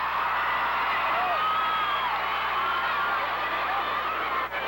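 A large arena crowd at a 1984 WCCW Parade of Champions wrestling event gives a loud, sustained roar that holds steady throughout as a dense wall of cheering.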